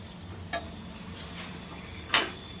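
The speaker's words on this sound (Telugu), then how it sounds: "ఇది మొత్తము చికెన్ వేసిన తర్వాత టమాటోస్ గ్రేవీ మొత్తం దీనికి మిక్స్ అయ్యేలాగా బాగా కలుపుకోవాలి" Chicken being stirred into tomato gravy in a pot for a home-style curry, with two sharp scraping strokes of a spoon against the pot over a faint steady sizzle, close and fairly quiet, no talking.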